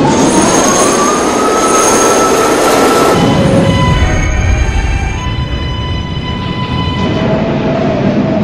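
A Bronx-bound 6 local subway train rumbling along the rails with loud, shrieking wheel squeals that rise and fall over a steady roar, close and continuous.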